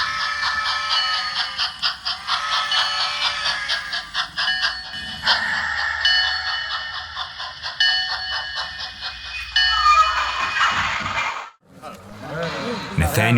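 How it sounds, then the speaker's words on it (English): Coal train on an On30 model railroad chugging down the tracks toward a hotel, a steady rhythmic rumble with hissing and clatter that stays loud throughout, then breaks off briefly near the end, with narration over it. "coal train chugging down the tracks to the hotel"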